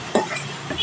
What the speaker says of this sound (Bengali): ভালোভাবে নাড়াচাড়া করে গ্যাসের ফ্লেমটা একটু বাড়িয়ে দিয়ে মানে মিডিয়ামে রেখে মশলাটা কষিয়ে নিতে হবে।